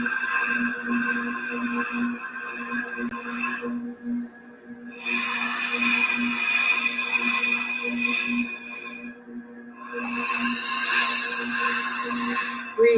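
Slow, guided breathing during a meditation: two long, audible breaths rise and fall in a steady rhythm over a low background tone.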